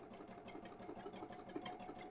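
A Husqvarna Viking EPIC sewing machine stitches a decorative seam, its needle pounding in a quick, even rhythm, soft and close with no talking.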